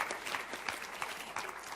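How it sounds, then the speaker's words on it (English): Applause from a conference audience at a plenary session, thanking a panel of speakers; steady, fairly loud clapping fills the whole short stretch with no voices over it. "A round of applause for our fantastic second panel of speakers."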